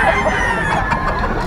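A gamefowl rooster of a Kalidom X Papay Hatch battle cross crows loudly and close, a sustained call running the full length with clucking fowl around it at a gamefarm seller's yard.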